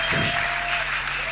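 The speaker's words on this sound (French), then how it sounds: "Applaudissez très fort." Loud, dense applause from a church audience fills the short moment, steady and close, with no spoken words over it.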